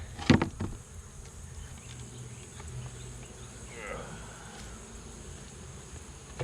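Honeybees hum softly around a beehive outdoors, a faint steady buzzing drone after a brief knock near the start.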